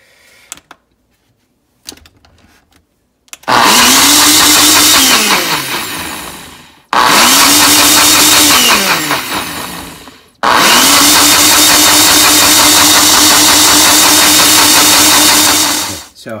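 Blender whipping bulletproof coffee, a loud, steady whirring roar in three long bursts of several seconds, the motor pitch sagging and recovering, with brief clicks and handling noise before it starts.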